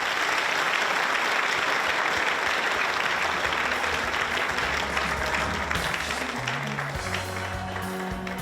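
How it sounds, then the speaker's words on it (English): Sustained audience applause at a 2017 Mahi Toi show as the junior section finalist models leave the stage, a dense, steady wash of many hands clapping throughout, with a faint low tone entering near the end. "Please give the models a round of applause as they depart from the stage."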